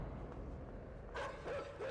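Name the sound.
dogs barking in the video game Inside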